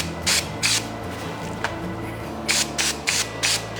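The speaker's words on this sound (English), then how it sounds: "I'm gonna use a little bit of Wagyu beef spray here" Short hissing bursts of Wagyu beef fat spray from an aerosol can hit a beef tenderloin, about seven quick sprays in irregular pairs, close and fairly loud over a low background hum.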